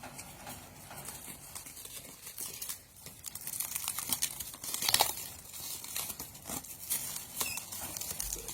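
Close, quiet crinkling and tearing of thin plastic protective film being peeled off a new ring light, in irregular bursts that grow louder midway.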